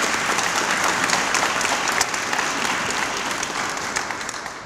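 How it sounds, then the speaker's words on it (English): Loud, dense round of applause from a ceremony audience at the Georgia Military Veterans Hall of Fame unveiling, honoring veterans for their public service, sustained evenly and tapering slightly at the end. "Let's give those gentlemen a round of applause for their public service and everything."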